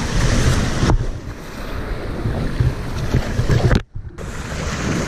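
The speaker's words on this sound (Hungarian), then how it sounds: "Jön a jetski, jönnek a hullámok. Még a végén elviszi!" Waves washing ashore near a beached jetski, a loud rushing surf with heavy wind buffeting the microphone and a brief drop partway through.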